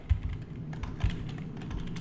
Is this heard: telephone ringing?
no